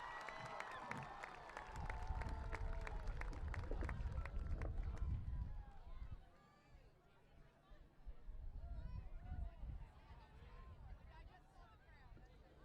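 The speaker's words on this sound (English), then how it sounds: "How about a nice round of applause for all 12 candidates" A crowd at a high school homecoming football game applauds and cheers loudly for the homecoming court, the clapping fading after about six seconds, with a second, lighter burst of applause following.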